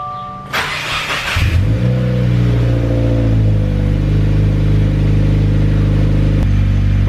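A 2017 Subaru WRX fitted with a flex fuel kit starts with a brief sharp burst, then settles into a loud, close, steady idle whose hum gradually drops and evens out, with a small click near the end.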